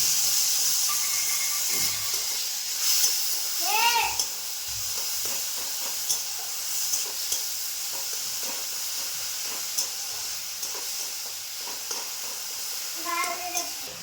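Water splashes into a hot pan while a filling is cooked with jaggery, giving a steady hiss and steam with brief sputters and faint voices in the background.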